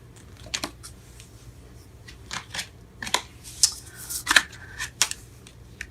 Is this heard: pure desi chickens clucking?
no